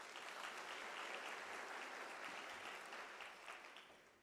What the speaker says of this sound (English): Can we get an applaud for that?